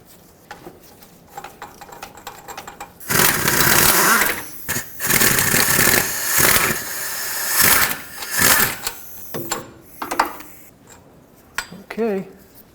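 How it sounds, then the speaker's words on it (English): Ratchet with a 15mm socket breaking free the A/C belt tensioner mounting bolts on a 2003-2021 Chevrolet Express van, heard as loud, close bursts of mechanical clicking and clattering in several spells, with a voice talking between them. "Break free these two bolts here."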